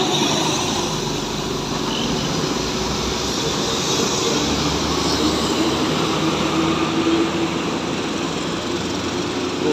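Two Indonesian intercity buses, an AH Series Atlas and an Armada Indah, pass on a road in Aceh, giving a loud, steady roadside rumble of engines and tyres with broadband wind-like rush throughout.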